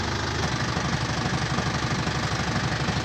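A Ford Fairlane 500 engine runs steadily at close range, its low rumble churning evenly with a slight knocking pulse throughout and no voices.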